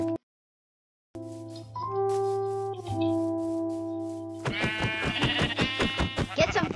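Sheep bleat in a Minecraft-style survival video game after a brief silence and a sustained tone, the cries growing into a loud, rapid burst of overlapping bleats near the end.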